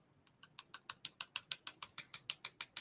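Keys clatter on a computer keyboard in an office setting, a steady rhythmic run of about fifteen evenly spaced clicks, close and distinct with no talking.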